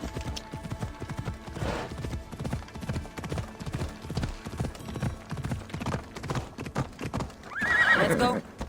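Hooves of the horse Phobos clip-clop in a steady galloping rhythm in Assassin's Creed Odyssey, with a loud whinny near the end and a voice speaking over the ride.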